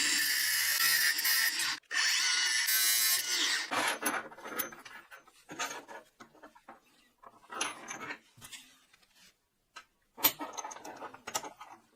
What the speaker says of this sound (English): He drags a scribe across the metal surface